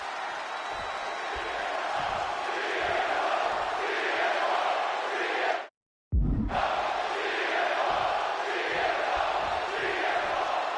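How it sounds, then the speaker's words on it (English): A roaring video game wrestling crowd in a Chicago arena in WWE 2K26 keeps up a steady cheer with chanting swells, cut by a brief moment of total silence midway before the noise resumes. "just listen to this crowd here in Chicago"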